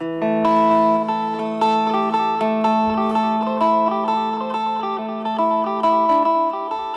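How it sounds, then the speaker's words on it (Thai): A clean electric phin with a teak body and humbucker pickup plays sustained strummed chords, warm and full-bodied, ringing steadily for several seconds without any voices. "เสียง ฮัมปักกิ้ง จะออกนุ่มๆ นวลๆนะครับ"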